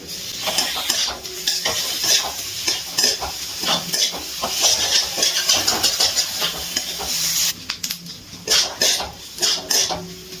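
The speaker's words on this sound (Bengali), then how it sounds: "এবার খুব ভালো করে মশলার সাথে নাড়াচাড়া করে নিচ্ছি" Capsicum stirred and fried with spices on a high gas flame, with loud close sizzling and repeated rhythmic scraping of a spoon against the pan, briefly pausing before more stirring.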